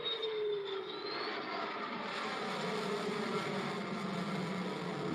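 An F-15EX fighter jet in flight gives a sustained, moderately distant roar with a whining tone that slides downward as it passes, continuous and without voices.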